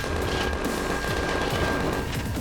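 Ship turrets in Empyrion: Galactic Survival fire in a dense, continuous fusillade, rapid overlapping shots and low booms rolling together without pause, loud and close.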